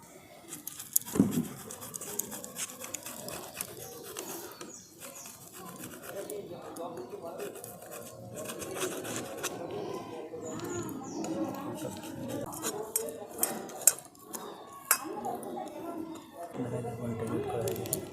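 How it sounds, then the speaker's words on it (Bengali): Paneer rubbed across a hand grater, a soft continuous rasping scrape in close repeated strokes with a few louder knocks, a voice speaking over parts of it. "এই পনিরটাকে আমি এরকম একটা গ্রেটার নিয়েছি, গ্রেটারের সাহায্যে গ্রেট করে নিচ্ছি"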